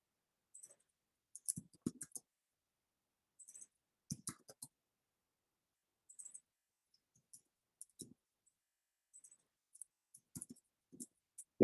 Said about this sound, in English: The typing will be slightly less loud.